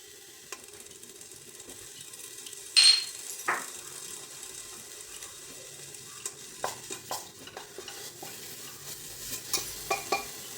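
Quiet sizzle of ginger garlic paste frying in butter in a pan, with a spoon scraping and clicking against the metal several times at irregular intervals.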